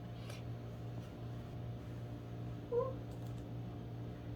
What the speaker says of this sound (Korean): 지금 고양이가 와서 흔드네.